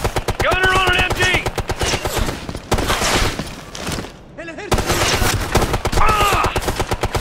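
Rapid machine gun bursts in the shooter game Ghost Recon Future Soldier, loud and sustained with brief gaps, mixed with shouted voices and combat chatter.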